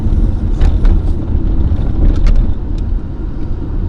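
A Ford Falcon AU idles with a steady low engine rumble and a faint high hiss, close to the microphone, running alone with no talk.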